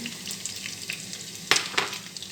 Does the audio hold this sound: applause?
no